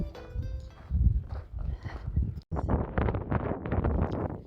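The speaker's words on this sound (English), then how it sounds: "The wind on the PCT is no joke. And this, as you can hear, it's super, super strong." Strong gusting wind on the Pacific Crest Trail's desert section buffets the microphone in loud, rumbling roars, with a brief dropout midway before the gusts return even harder.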